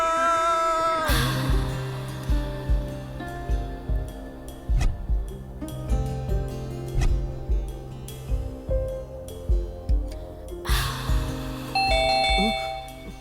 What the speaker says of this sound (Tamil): இப்போ காலிங் பெல் அடிக்குது